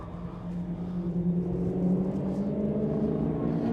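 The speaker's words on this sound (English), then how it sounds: "Here's some nice V8s in the background" V8 engines of Ford F-150 Raptor trucks idling in the background, a steady low rumble with a faint droning hum that holds evenly throughout.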